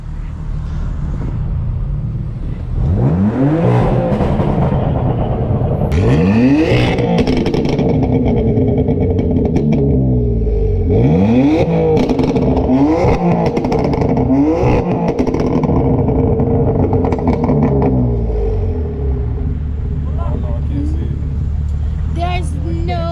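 A 2016 BMW M3 turbo engine and exhaust rev hard and repeatedly during a spirited drive. The sound is loud and close, with rising and falling sweeps and clattering pops between the pulls.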